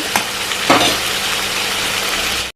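Liver curry with turmeric and salt fries loudly in a pan, a dense close sizzle broken by a couple of stirring scrapes early on, then a continuous hiss until it cuts off abruptly.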